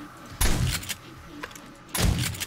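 Two sharp gunshots from a weapon in the zombie survival video game 7 Days to Die (alpha 20), spaced about a second and a half apart, each a loud crack with a short rumbling tail over quiet game ambience.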